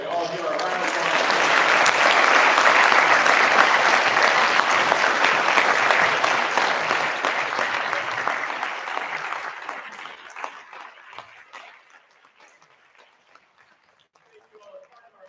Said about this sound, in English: I'd like to all give our round of applause